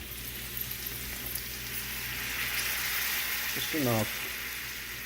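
Bacon, green peppers and onions sizzle in a pan as chicken stock goes in, a bright steady hiss that briefly flares louder, while someone speaks quietly over it.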